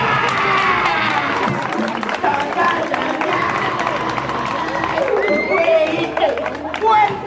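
An audience at a magic show claps and cheers loudly and continuously, with shouts and children's voices mixed into the crowd noise.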